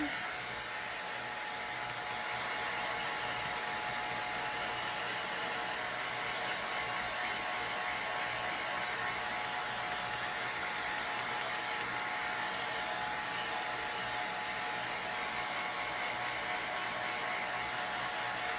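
A hair dryer runs steadily to dry chalk paste on Easter egg cutouts, an unbroken whirring blow with a faint hum underneath, even in loudness from start to finish and free of speech.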